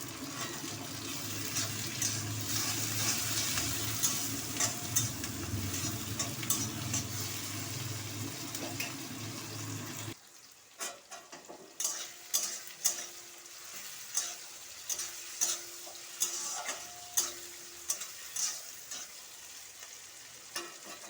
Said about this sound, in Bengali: পেঁয়াজগুলো আমার ভাজা ভাজা হয়ে গেছে।